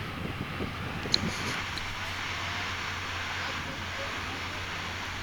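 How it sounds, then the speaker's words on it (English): Water gushes steadily from a fountain in Oman, a constant broadband rush that stays loud and unbroken throughout, with no talk over it. "The water coming out of this thing's making a lot of noise"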